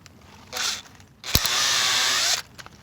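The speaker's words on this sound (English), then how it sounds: "So I'm gonna just put it in this drill right here." A power drill whirs in two bursts, a short spin and then a longer steady high-pitched run of about a second, with a click between.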